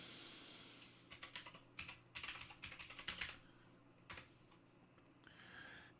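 Quick bursts of clicking computer-keyboard keystrokes come in short irregular runs with pauses between, fairly quiet and close, while a new text file is written.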